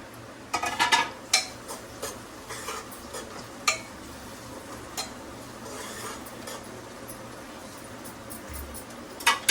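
Tomatoes added to fried onions in a home kitchen pan and stirred: scattered clinks and scrapes of a metal spoon against the pan, some in quick clusters, over a faint low hum, with no talking.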